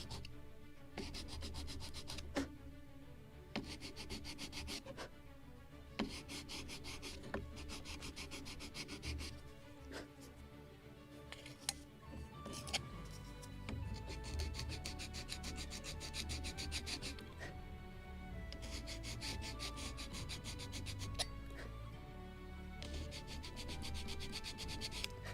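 Wooden parts from a Model Shipways kit of the 1776 gunboat Philadelphia being sanded, a steady close rubbing and rasping that runs in repeated strokes for the whole stretch, with brief pauses between bursts and no talk.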